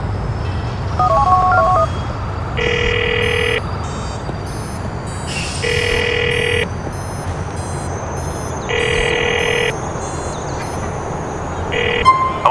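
A telephone rings in the video game GTA 4 with a repeating electronic two-tone ring, sounding in regular bursts about every three seconds over a steady wash of traffic and city noise.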